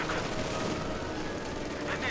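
Gunfire from a machine gun in the video game Company of Heroes 2, a continuous dense crackle of shots with battle noise, steady and loud across the whole stretch, with voices mixed into the din.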